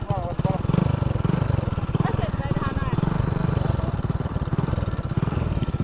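A motorcycle engine at a flooded road sputters and chugs unevenly at close range, a rough pulsing putter that never quite catches, with voices talking over it.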